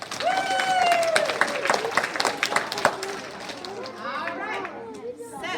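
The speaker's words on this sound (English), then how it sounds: "Give them a cheer." Young children cheer and shout together in a lively, bright burst with some clapping mixed in, close and loud at first and then fading into chatter, gathered around a book vending machine at a school.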